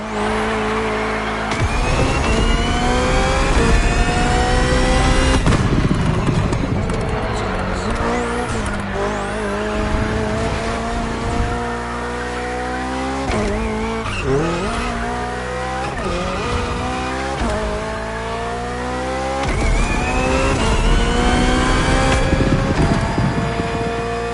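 A BMW Hybrid V8 race car in The Crew revs loudly through repeated rising gear sweeps, with tire squeal and skids, over a long continuous run.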